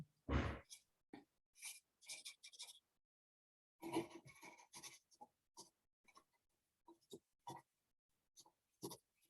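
Pen strokes scratching across paper in short, separate bursts with pauses between them, close and fairly quiet, with no talking over them.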